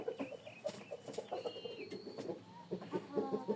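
Clucking and short squawks from a Korean rooster, moderately close, come in irregular bursts over a low farmyard background, with brief higher calls from other birds.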